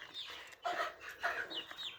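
Chickens cluck in a short burst of overlapping calls at close range while water with deworming medicine is set down for them, the hens crowding in noisily with no talk over them.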